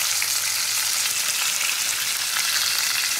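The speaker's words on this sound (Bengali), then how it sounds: "ফোড়ন দিয়ে আমি মাছগুলোকে ভেজে নেবো" Four pieces of fish fry in hot oil tempered with cumin, giving a steady, close crackling sizzle with no voices.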